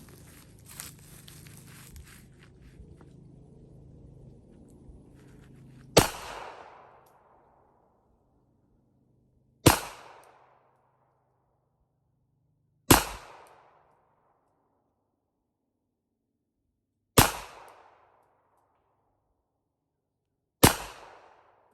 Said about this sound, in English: So we're just going to shoot the other ammunition and see if it maybe is that ammo.